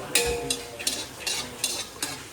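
Spices tempering in hot oil in a pot for khichdi, a soft sizzle under repeated sharp stirring scrapes, about five close strokes in quick rhythm.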